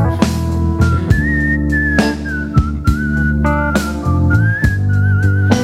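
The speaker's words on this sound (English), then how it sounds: "He can whistle, whatever." A person whistles a melodic tune over a backing track of guitar and accompaniment, the bright whistled line gliding and wavering steadily above the music throughout.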